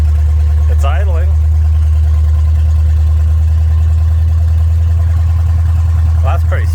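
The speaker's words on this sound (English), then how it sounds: "It's idling." A 1984 Ford F150 engine idles steadily with a deep, constant low rumble that stays loud and close, while brief voices break in near the start and again at the end.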